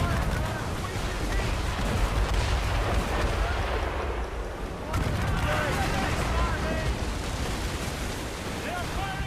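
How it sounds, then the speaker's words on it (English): Ships' cannons fire a volley in Assassin's Creed Rogue, a sustained roaring rumble of heavy booms at sea with wind and surf noise, while shouted voices carry over the din. "They're firing a volley!"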